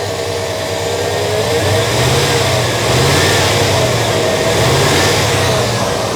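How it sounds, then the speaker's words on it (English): A car engine revving up under the hood while its clutch-driven radiator cooling fan roars, a loud steady whirring that swells and eases with the revs, heard up close. "Listen to the sound of the fan when I rev it up a little bit."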